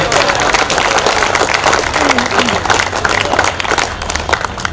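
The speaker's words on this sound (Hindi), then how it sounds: "तो एक बार जोरदार सारे ताली पीट दो।" A packed audience at a Haryanvi comedy show claps hard and continuously, a loud, thick roar of hands that barely dips from start to finish.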